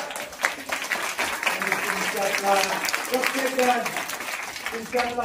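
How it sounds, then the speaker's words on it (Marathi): An audience claps for the Maharaj at a gathering, a dense, sustained round of applause with a voice speaking over it. "महाराजांसाठी एकदा टाळ्या वाजवा"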